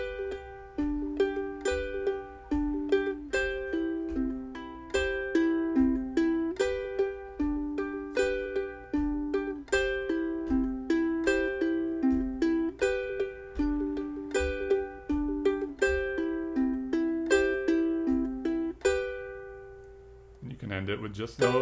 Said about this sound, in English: the exercise sounds like this.